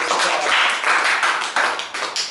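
A small group gives a round of applause, a burst of brisk, close hand claps that swells and tapers in uneven waves with no talking over it.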